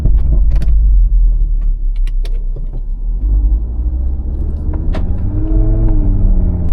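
Audi RS3 driving on its first run after an engine tune, with a low steady rumble, creaks and clicks from the cabin, and rising engine tones through gear changes toward the end.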